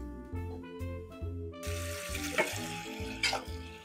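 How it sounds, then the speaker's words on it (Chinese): Running water from a tap pours steadily over cooked tapioca pearls to cool and rinse them, a close splashing hiss that begins abruptly partway through after a few soft clinks. "让它冲水降温"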